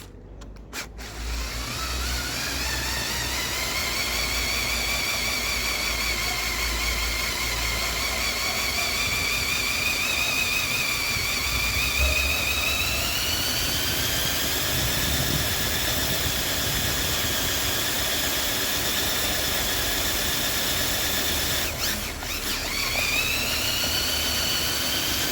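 Small electric motors of a CaDA Master Series Mercedes AMG One model car whir during a speed test, a steady high-pitched whine that rises and falls in pitch, with brief clicks near the start and end.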